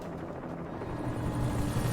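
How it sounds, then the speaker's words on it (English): A helicopter in the video game Alan Wake Remastered thrums with a low, steady rotor rumble that swells slightly louder toward the end, heard alone without speech. "And it is a helicopter."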